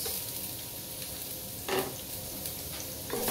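Onion is stirred and sautéed in a hot pan, giving a steady close sizzle broken by two louder scraping bursts as the pieces are turned.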